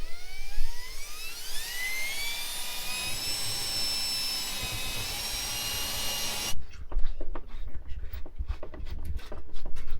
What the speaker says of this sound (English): Drilling holes in an Airstream.